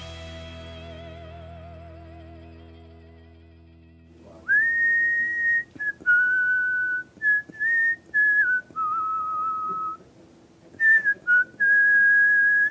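After a fading sustained chord, someone whistles the intro of a slow melodic rock tune, clear and solo, with short pauses between phrases.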